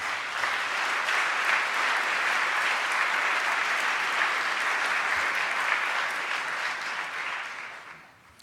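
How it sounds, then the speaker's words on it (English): A conference audience at the World Water Week 2016 closing plenary applauds poster presenters: a dense, sustained wash of many hands clapping, loud and even throughout before tapering off at the very end. "please give them a nice applause for the work they've been doing"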